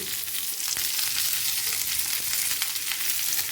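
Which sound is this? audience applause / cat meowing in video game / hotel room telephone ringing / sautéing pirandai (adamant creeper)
sautéing pirandai (adamant creeper)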